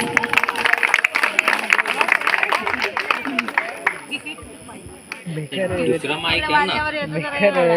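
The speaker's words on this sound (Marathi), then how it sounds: "टाळ्यांचा गडगडाट झाला पाहिजे असाच." Audience at a live stage event clapping: a dense patter of applause in the first half that fades, while a voice talks over it and a crowd murmurs.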